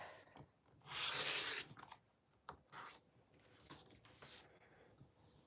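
Fabric being cut while quilting from scraps, folded in half and trimmed to 4 inch pieces, with a burst of rough slicing and rasping around the first second, followed by softer intermittent scrapes and rustles at close range.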